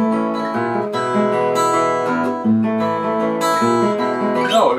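Solo guitar picks Maple Leaf Rag in a piano-like ragtime style, with a bouncing bass line under syncopated melody notes, close and clean without talking.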